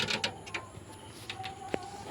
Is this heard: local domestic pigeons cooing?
yes